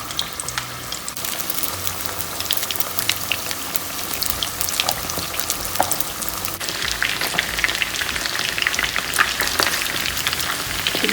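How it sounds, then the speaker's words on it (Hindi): Thick chicken pieces fry in oil over medium heat, a dense continuous crackling sizzle with popping spatters that grows slightly busier toward the end, close and steady with no talking. "तकरीबन 2 मिनट हो चुके हैं इसको फ्राई होते हुए"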